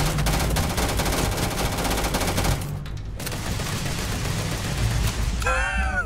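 Rapid automatic gunfire from a space shooter video game rattles continuously and loudly, with a short lull before the barrage resumes and ends with a sweeping laser-like zap.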